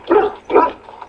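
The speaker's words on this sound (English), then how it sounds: "Dude, what are you barking at?" Two sharp, close dog barks followed by a softer yelp, from a camp dog in the video game Dragon Age: Origins on Xbox One, alone without talk.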